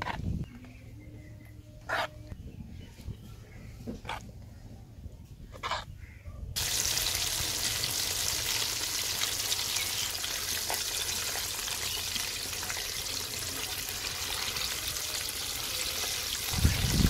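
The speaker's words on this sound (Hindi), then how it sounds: "और अब हम फिश को बेसन लगा के फ्राई करेंगे।" Fish pieces coated in gram flour fry in hot oil over a village-style cooking setup, with a few faint knocks and outdoor sounds before a loud, dense, steady sizzle takes over and continues close up.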